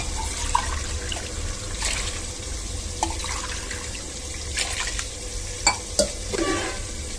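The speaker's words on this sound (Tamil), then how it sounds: "அகைன் ஒருக்கா கிண்டி விட்டுறலாம்" One-pot biryani stirred in a pot after water has been added to the rice, a wet, continuous swishing with a few sharper scrapes and knocks of the spoon near the end, close up with no talking.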